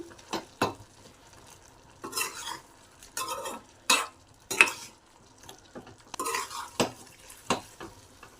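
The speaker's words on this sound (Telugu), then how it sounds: "కొద్దిగా మిరియాల పొడి కొద్దిగా చికెన్ మసాలా వేసుకొని ఒకసారి బాగా కలుపుకుందాం" Egg and stuffed ivy gourd fry in a pan with pepper powder and chicken masala gets stirred with a metal spoon, giving repeated sharp scraping clanks in irregular bursts over a faint background sizzle.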